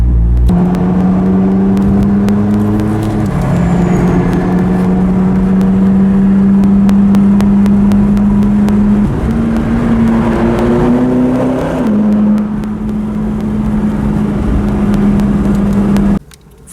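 A Mercedes SLR McLaren drives past loud and close, its engine holding a steady droning note with a few shifts in pitch as it accelerates, and cuts off sharply at the end.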